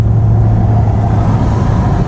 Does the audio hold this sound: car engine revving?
yes